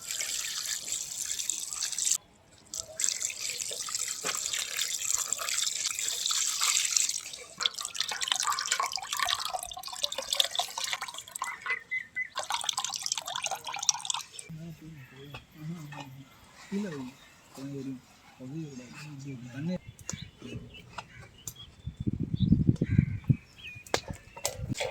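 Water poured and trickling over strained milk curds in a kitchen during rasgulla making, a steady splashing stream that stops and restarts, then lighter drips and clatter near the end, fairly close.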